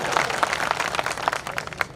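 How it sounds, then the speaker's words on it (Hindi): An audience at a Hindi poetry and comedy stage show gives brief, scattered clapping. Several loose claps ring out at a moderate distance over a soft room background. "गोरी जी के लिए ताली बजाओ ताकि स्टार्ट हो"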